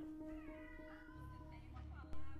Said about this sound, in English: I had a cat and a bird talking to me.